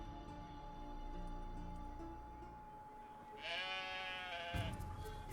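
A sheep bleats clearly for about a second in The Witcher 3: Wild Hunt, over a low, steady background hum, following a rumbling passage.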